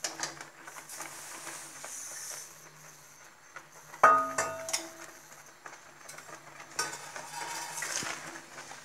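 Khoa and sugar are stirred together in a pan off the heat, giving soft scraping and scattered metallic clinks of a spoon against the pan, with a sharper knock around the middle and steady faint friction throughout.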